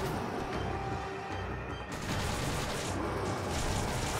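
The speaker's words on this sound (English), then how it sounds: "Alright, I'll keep shooting with you." Sustained gunfire from the video game Resident Evil 5, a dense, continuous barrage of shots firing at a large enemy, loud and close with no talking over it.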